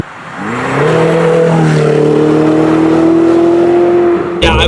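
A Ferrari 488 Spider engine revs on the move, a loud, rising and steady drone that holds high for several seconds before dropping off, followed by a brief burst of noise.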